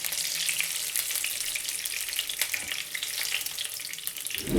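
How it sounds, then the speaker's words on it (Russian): Minced fish cutlets frying in a pan, a steady bright sizzle and crackle that runs continuously and fairly close, with no voices. "Таким образом нужно пожарить весь фарш."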